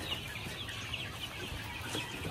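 Chicks being weighed on a manual scale, their dense high peeping and cheeping filling the space continuously at moderate volume, many birds overlapping without pauses.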